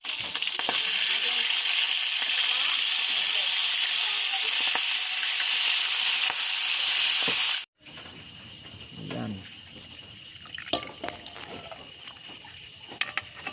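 Tulingan tuna fries in oil with a loud, dense, hissing sizzle that runs steadily, then cuts off abruptly. A quieter, sparser crackle follows, with a few small knocks.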